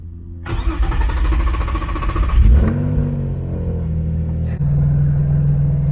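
An Infiniti G35 fitted with a new exhaust starts up with a loud burst of revs, then settles into a steady, deep, burbling idle close by, with no voices.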